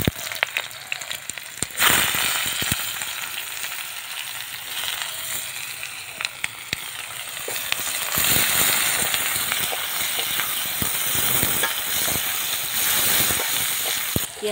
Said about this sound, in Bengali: কড়াতে তেল দিয়ে দিচ্ছি। কুচনো পেঁয়াজটা দিয়ে দেব।